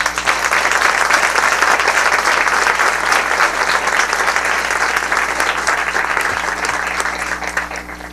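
Audience applause for a speaker at a parliamentary debate session, a broad steady roar of clapping hands over a low electrical hum, slowly thinning toward the end.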